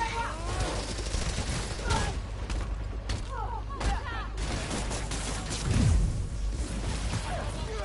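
Enemy gunfire in the video game Spider-Man Miles Morales, repeated bursts and sharp shots scattered across the stretch with whooshes and thuds of combat, a voice speaking in French at times.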